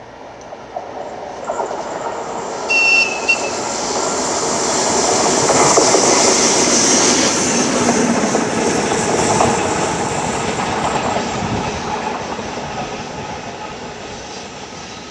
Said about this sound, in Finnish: Museolle saapuu esittelyyn myös Fenniarailin DR18 veturi junana numero